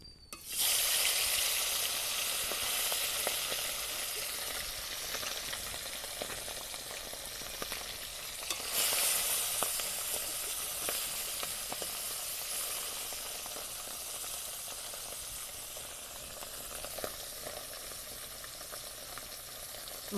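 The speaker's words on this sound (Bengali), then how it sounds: "মাছ ভাজার জন্য কড়াইতে সর্ষের তেল দিয়ে দেব।" Small fresh river parshe fish frying in hot mustard oil in a wok, giving a loud, continuous crackling sizzle up close that surges around the middle and then settles, with no talking.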